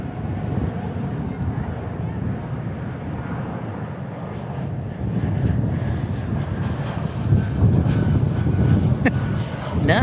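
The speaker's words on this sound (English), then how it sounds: "Listen to those engines roar." Steady, broad roar of jet airliner engines at DFW International Airport in Texas, continuous and fairly loud, swelling slightly in the second half, with a voice talking faintly underneath.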